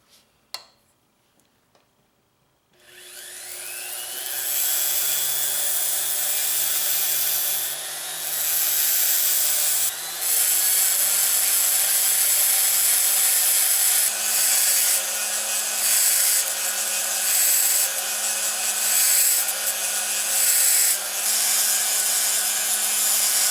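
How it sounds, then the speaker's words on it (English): A diamond wheel grinds the primary edge bevel onto a jade Maori-style whao carving chisel, a steady whining motor drone with a grinding rasp that starts after a few quiet seconds and runs on with slight dips as the stone is pressed and shifted. "I'm going to use a diamond wheel to put in my primary edge bevel"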